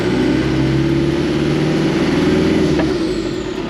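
A custom Icon Toyota Land Cruiser FJ45 with a turbocharged engine drones loudly and steadily at low revs, a heavy close rumble with a faint whistle on top and a brief mechanical tick near the end.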